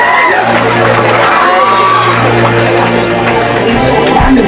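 A church congregation cheers and shouts acclaim for Jesus in a loud, sustained roar of voices, with whoops and yells, and a preacher's voice carrying over the crowd.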